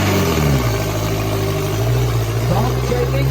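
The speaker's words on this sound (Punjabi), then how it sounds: "ਬਹੁਤ ਸੋਹਣਾ ਟਰੈਕਟਰ ਚੱਲ ਰਿਹਾ ਆਪਣਾ ਲਾਲ" The engine of a red tractor at a tractor pulling contest drones loudly and steadily nearby, its pitch shifting slightly as it works under load, with voices talking over it.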